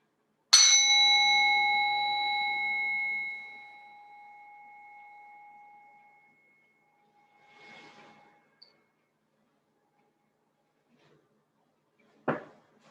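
A single bell struck during a restorative yoga session rings out loud and clear, its bright tone slowly fading over several seconds, followed by a soft rustle and a brief sharp tap near the end.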